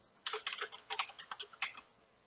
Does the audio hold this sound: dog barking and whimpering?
no